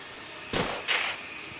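Two sharp, loud gunshots ring out in the Gorebox video game, close together about a third of a second apart, with a short decaying tail and no talk.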